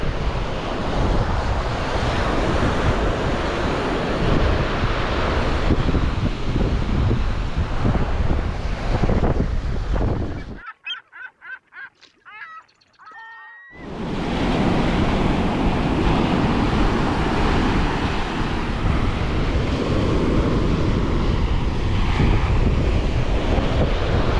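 Ocean surf rolls steadily onto a beach at Playa del Carmen, Mexico, a loud continuous wash of waves with wind buffeting the microphone, briefly cutting out for a few seconds midway before the roar resumes.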